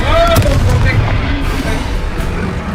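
A fiery blast spell goes off in the Hogwarts Legacy video game: a loud, booming explosion with a rumbling tail that fills the whole stretch, with a voice and game effects mixed in.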